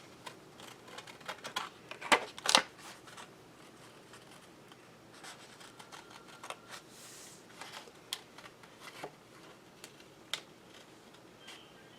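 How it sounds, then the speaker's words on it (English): Scissors snip through ribbon spools while cutting out ornament shapes, giving scattered sharp clicks and crisp cuts, a few louder snips early on, then lighter ones, close up with no talk. "So now I'm just going to take some scissors and cut these out"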